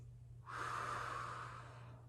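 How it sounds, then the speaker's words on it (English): One slow, deep breath, soft and close, over a faint background hum. "We're gonna take 3 deep breaths here."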